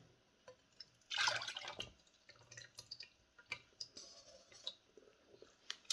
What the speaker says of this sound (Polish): A to, ten sok, wlewamy tutaj do pojemnika.